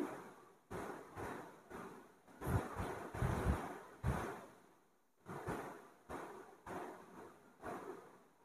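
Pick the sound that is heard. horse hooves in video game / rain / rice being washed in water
rice being washed in water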